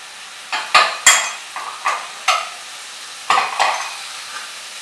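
Carrots and green beans for an Indian curry stirred in a hot frying pan, with several scraping, clinking strokes of a utensil against the pan over a soft, steady sizzle, close by and without talking.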